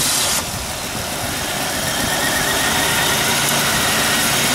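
A 2000 Pontiac Bonneville with a power steering problem and a misfire on the number 3 cylinder starts and runs, giving a loud, steady engine roar with a rough, buzzing texture and no voices.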